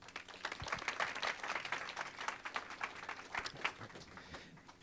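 An audience applauds at a Silicon Valley startup pitch night: dense, steady clapping from a sizeable crowd, fairly close and sustained throughout with no talking.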